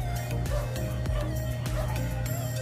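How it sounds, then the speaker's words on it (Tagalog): Several dogs bark and yip in short repeated bursts over a steady low household hum, fairly close and loud throughout, with some whimpering mixed in. "Pasensya na po sa aming dogs na maingay."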